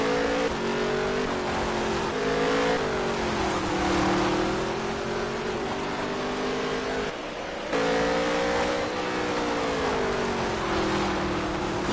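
Race car engines roar on a dirt track at Texas in a video game, a continuous loud whine rising and falling as the cars power through, with a brief dip in the middle.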